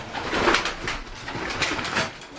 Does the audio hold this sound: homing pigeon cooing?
yes